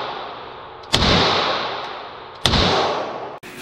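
Two loud, sharp shots from an HK VP9L pistol at a shooting range, about a second and a half apart, each with a long reverberant tail, followed by a brief click.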